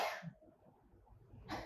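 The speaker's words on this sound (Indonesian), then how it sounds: "Maaf saya sedikit batuk" A person coughs twice, short and close, with a quiet gap between the bursts and no talking.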